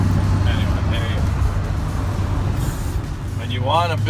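Highway traffic on I-95 toward New Haven while stuck in slow traffic, a constant low engine rumble from cars and trucks with voices talking over it.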